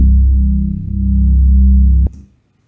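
A single deep, sustained synthesized MIDI bass note at C1 holds steadily for about two seconds, then cuts off abruptly with a brief click.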